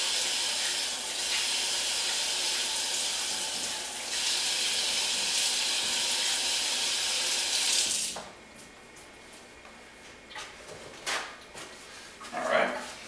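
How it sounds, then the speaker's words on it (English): Water from a kitchen tap runs hard as hands are rinsed while a lamb meatloaf is being made, a loud steady broadband rush for about eight seconds before it cuts off, leaving quieter kitchen clatter and faint handling sounds. "So I'm going to rinse off my hands for a second so I can show you this."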